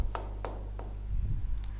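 Writing on a board during a geometry lesson on triangles, short scratchy marker or chalk strokes in quick succession over a low steady hum, close and without talk.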